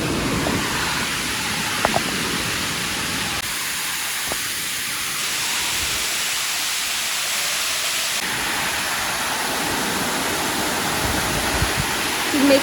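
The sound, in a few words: stream crossing water flowing over rocks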